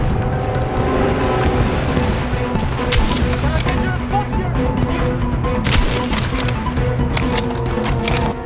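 Sustained enemy machine gun fire in the shooter game RedSec, loud dense bursts and cracks rolling continuously with a few sharper impacts, under occasional shouted voices.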